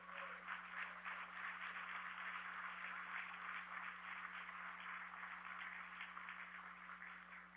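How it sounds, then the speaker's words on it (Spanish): A church congregation claps loudly in praise to God, a dense, sustained round of applause that holds steady and only eases slightly toward the end. "apláudale fuerte a Dios."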